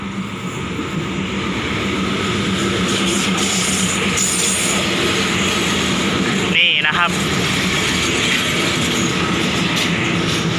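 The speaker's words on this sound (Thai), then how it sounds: "มาแล้วครับ รถท้องถิ่น 402" A local passenger train, SRT number 402, rolls past close by, a sustained rumble of wheels and rail clatter, with a brief horn or squeal partway through.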